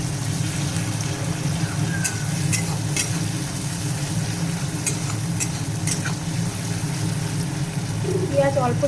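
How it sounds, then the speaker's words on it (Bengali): Chopped onions frying in a pan for chicken kosha, giving a steady sizzle with scraping stir sounds throughout, close and moderately loud, with a voice speaking over it. "এবার দিয়ে দেবো কুচনো পেঁয়াজ, ভালো করে ভেজে নেবো পেঁয়াজটাকে।"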